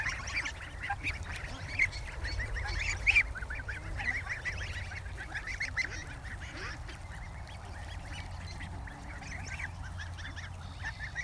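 A large flock of geese and ducks gathers close by, with constant overlapping honks and quacks forming a dense, lively chorus that swells and continues throughout, with no one speaking.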